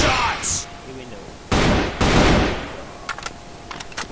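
Gunshots in an online shooter clan war, with a brief sharp burst of fire, then a couple of loud blasts and a few scattered pops, with a voice calling out between them.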